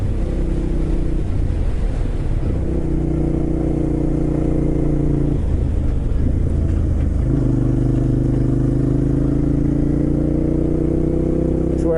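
A rider's first road motorcycle runs steadily up close, its engine droning loud and continuous with shifting pitch as it accelerates and eases off through gears, with no one speaking.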